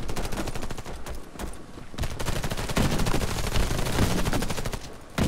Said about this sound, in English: Someone's trying to shoot through the fucking fence